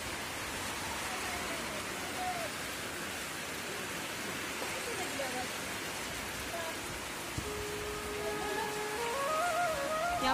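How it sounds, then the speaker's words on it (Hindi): Steady rain pours down in a Himachal Pradesh village, a constant broadband hiss of drops on surfaces, close and even throughout, with a voice talking faintly over it. "आप बारिश तो देख सकते हैं, आवाज तो आपको आ ही रही होगी"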